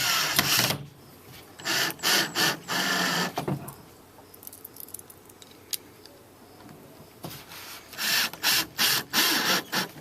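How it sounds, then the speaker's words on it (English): A power drill drives screws halfway into a plastic Lifetime 80-gallon compost tumbler during assembly, in repeated short whirring bursts close by with pauses between them. "so to speed it up I'm going to put the screws in halfway with the drill."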